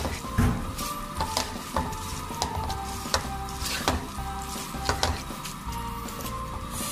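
Dark chili sauce frying in a pan while macaroni salad is made, a steady close sizzle marked by scraping stirs and light metallic knocks of a utensil against the pan.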